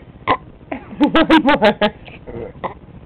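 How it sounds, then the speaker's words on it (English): A child lets out a run of loud, rhythmic burps, about six pulses close together, with an adult voice speaking briefly before and after. "Burp some more."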